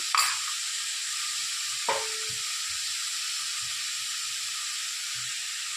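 Continuous sizzling and hiss of okra frying with salt in a pan, with a couple of sharp utensil clinks near the start.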